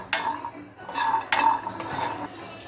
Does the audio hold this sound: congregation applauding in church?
no